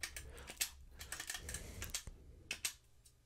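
Keys clatter on the full-size keyboard of a 2019 TheC64 Maxi, a Commodore 64 replica, in an irregular run of close, crisp clicks with short pauses and no talking.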